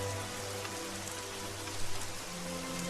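Steady rain falls and patters on surfaces in a dense, continuous hiss, with a low hum underneath and no voices.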